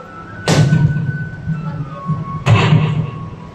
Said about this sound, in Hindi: बमों के धमाके की आवाज सुनाई दी